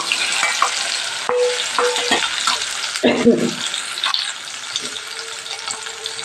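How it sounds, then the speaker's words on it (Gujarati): Potatoes tumble into a frying pan and crackle with a strong, close sizzle, while a spoon stirs and scrapes through them with a few knocks. "પછી બટેકાને ઉમેરી દેશું"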